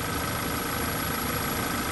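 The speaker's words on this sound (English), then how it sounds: "There's a vacuum leak. I hear a hissing noise." A freshly rebuilt Audi 2.0T engine idles with a vacuum leak tied to the PCV breather. A steady close-up engine drone carries a continuous airy hiss running evenly underneath, with no talking.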